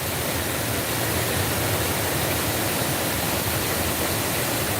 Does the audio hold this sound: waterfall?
yes